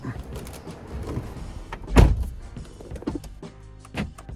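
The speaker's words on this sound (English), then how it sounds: "Let's try and shut the door." A Alfa Romeo Giulietta car door thuds shut with a solid clunk, followed by a short whir and clicks of the locks engaging, amid quiet background noise.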